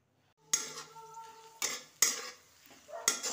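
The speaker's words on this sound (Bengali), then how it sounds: "একটু পেঁয়াজ ভেজে নিচ্ছি, পেঁয়াজ আর লঙ্কা" Onion and chili frying in a pan in a home kitchen, with a soft sizzle broken by several sharp clanks of a utensil against the pan, no talking.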